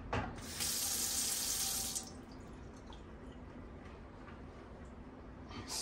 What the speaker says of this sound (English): let's get these out and get them rinsed